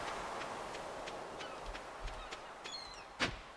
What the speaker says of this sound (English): There's a lot of seagulls.